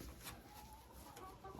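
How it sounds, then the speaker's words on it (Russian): Soft, low clucking from a hen close by, a few murmured notes over a steady noisy background. "Это моя любимая курочка."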